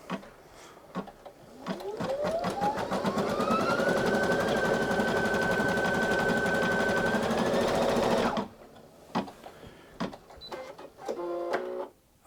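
Brother Innov-is NQ3700D embroidery machine stitching salmon pink thread: a steady, loud, fast motor whir with a rising pitch as it spins up, running continuously for about eight seconds before stopping, followed by a few clicks and a short beep-like tone.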